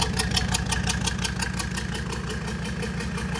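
A Mercedes engine idles steadily after a turbo swap, a continuous rumbling drone with a fast, even pulse, close and moderately loud, with no voices over it.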